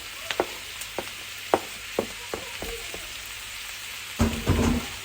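Onions and peppers dropped into hot oil in a pan, a soft steady sizzle with a series of light taps and scrapes, then a louder burst of frying near the end; no talking.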